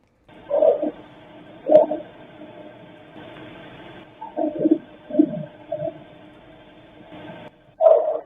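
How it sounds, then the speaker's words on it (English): A dog barks in a series of short, separate barks with gaps between them, some coming in quick pairs. The barks are faint and distant over a low, steady background hiss, and no one talks. "And that's a dog."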